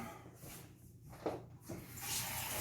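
Hot tap water is poured into a pizza dough mix of salt and yeast, a faint gurgling stream that swells into a steadier rush near the end.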